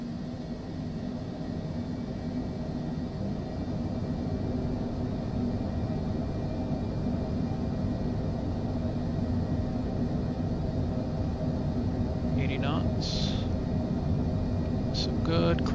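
Twin jet engines of a Citation Longitude spool up to full takeoff power in Microsoft Flight Simulator 2024, a steady loud broadband roar filling the cabin for the whole stretch, with brief chimes near the end.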